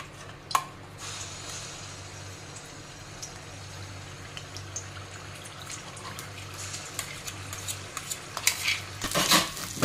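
Ground masala paste goes into hot oil in a pan for a spicy katvada curry and is stirred, giving soft scraping and clinks of a spoon against the pan that grow louder and busier toward the end.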